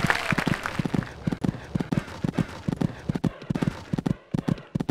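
Hoofbeats of a horse jumping in the Equestriad 2001 game thud in quick rhythmic clusters of three or four, close and crisp over a low background, with a brief pause near the end.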